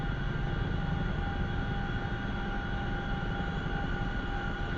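A CH-47F Chinook tandem-rotor helicopter in the DCS flight simulator drones steadily through takeoff, a dense continuous engine and rotor roar with a fine rapid pulsing underneath, loud and unbroken throughout.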